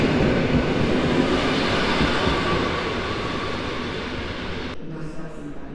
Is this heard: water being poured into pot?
no